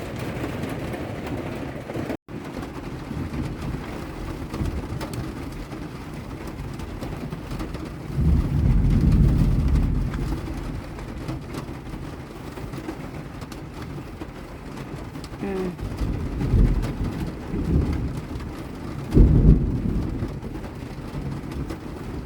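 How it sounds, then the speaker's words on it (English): Thunder rumbles low and heavy around a camper van in a thunderstorm, with rain pattering steadily on the roof and several swelling rolls of thunder rising above the wash of rain. "It's just going to be a storm,"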